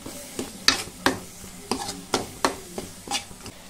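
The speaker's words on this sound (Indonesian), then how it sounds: "Sekarang aku masukin bumbu ikannya." Fish spice paste sizzles in a frying pan in a home kitchen as a utensil stirs it, giving repeated scraping strokes about every half second over a soft steady crackle.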